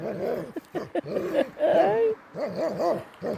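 A dog whimpers and yips in short rising whines, breaking into a few close barks, with brief pauses between bursts.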